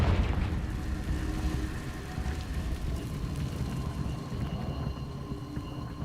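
A Confringo blasting spell bursts in Hogwarts Legacy with a sharp explosive hit at the start, then a crackling, rumbling tail that slowly fades, with no voice.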